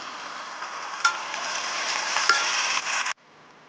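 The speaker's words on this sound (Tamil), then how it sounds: "அந்த தக்காளி வந்து இதில் ஆட் பண்ணுறேன்" Ground tomato hits onions frying in a pan for a butter beans stir-fry, a loud bright sizzle with a few stirring clinks that stops abruptly near the end.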